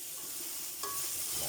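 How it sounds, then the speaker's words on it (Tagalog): Chayote sautés in a hot pan, a steady close sizzle with stirring scrapes and a small spike of crackle partway through, no talk. "nagigisa na po tayo ng ating ginisang sayote"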